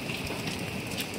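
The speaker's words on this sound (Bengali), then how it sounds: "বৃষ্টি হচ্ছে সকাল থেকে" Steady rain that has been falling since morning makes a continuous, even hiss outdoors, soft and uniform with no voices.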